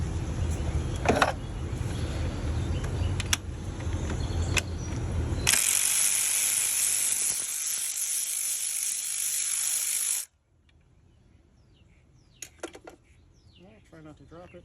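A ratchet spins off the 12mm nut on a Honda Accord V6 alternator: a few seconds of dense, steady clicking, loud and close, after someone talks, then quiet handling noises.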